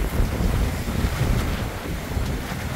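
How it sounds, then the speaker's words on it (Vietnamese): Strong wind blows by the sea on a deserted island, a continuous roaring buffet against the microphone with surf rumbling underneath, loud and close throughout. "Gió rất là lớn luôn các bạn ơi."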